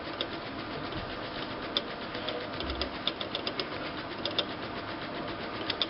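An HP DesignJet 450 printer whirs and clicks as its carriage runs a search pattern while booting up, giving a low mechanical hum broken by small irregular ticks and knocks.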